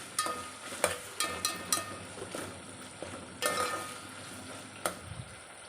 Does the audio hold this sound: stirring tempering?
yes